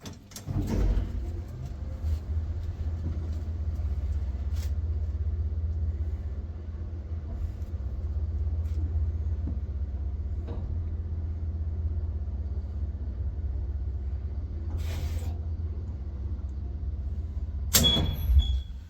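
A 1968 Kone traction elevator in a Tampere apartment building hums with a steady low rumble throughout a ride, with faint clicks and a door or mechanical clatter near the end.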